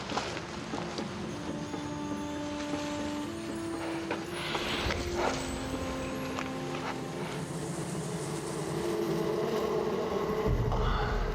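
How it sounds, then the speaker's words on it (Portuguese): A dense, steady drone of buzzing insects, like a huge beehive, continuous throughout with a few faint clicks and no voices. "O som da estrada acaba por ser o zumbido de uma enorme colmeia."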